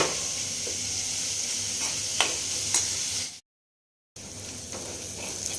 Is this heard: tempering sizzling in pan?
yes